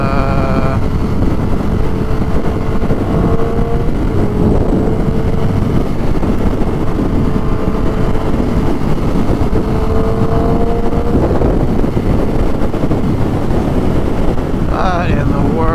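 A Ducati Monster 1200 ridden hard in traffic while chasing a Fireblade: heavy wind buffeting dominates, with a faint engine tone rising and falling underneath at intervals.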